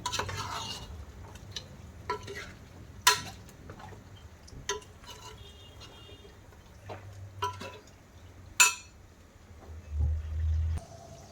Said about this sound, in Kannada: ಇವಾಗೇನು ಧನಿಯಾ ಪುಡಿ ಹಾಕ್ಕೊಂಡಿದ್ದೀವಿ, ಇದನ್ನು ಕ್ಲೀನಾಗಿ ಮಿಕ್ಸ್ ಕೊಟ್ಕೊಳ್ಳಿ